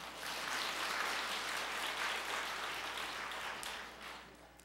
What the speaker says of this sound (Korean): 여기에 동의하시는 분은 박수하시기 바랍니다